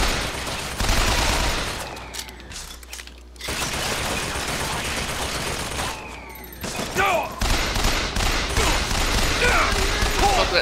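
Automated turret gunfire in the video game Bioshock Infinite, sustained bursts of rapid shots with mechanical clatter, loud and continuous apart from a brief lull, with battle noise around it.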